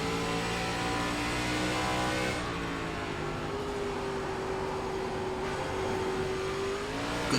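An ARCA race car engine roars in the iRacing sim at Lime Rock Park, holding a loud, sustained drone whose pitch climbs, drops at a gear change, then climbs again.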